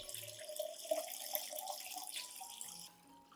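Water runs from a tap into a container in a steady splashing stream, with small bright drips, before easing off near the end.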